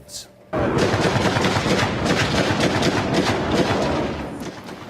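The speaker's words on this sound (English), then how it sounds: "authorities exchanging gunfire with a murder suspect" Authorities and a murder suspect trading gunfire in a Texas border town, a dense, sustained roar of rapid shots that starts abruptly and keeps going without a break.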